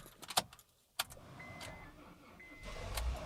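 A 2009 Honda Fit race car: a couple of sharp clicks and a thunk, a brief faint whine, then the engine catches into a low, close rumble near the end.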